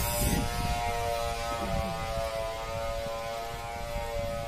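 Steady electrical hum with tonal buzzing layered over faint background clatter, moderately quiet and constant throughout, no voices.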